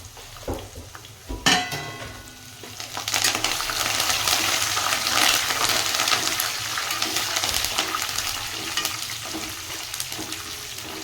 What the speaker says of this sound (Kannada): ಸ್ವಲ್ಪ ನಾನೀಗ ಇದರಲ್ಲಿ ಕರಿಬೇವು ಹಾಕ್ತೀನಿ